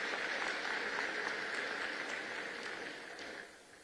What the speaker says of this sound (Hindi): 2025 के इस स्नातक बैच के लिए एक बार आप सभी जोरदार ताली बजाकर उन सभी का स्वागत और अभिनंदन करें।